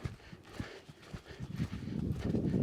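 Horse hooves beat in an irregular, rolling canter rhythm, close and moderately loud, building in intensity toward the end with no voices over them.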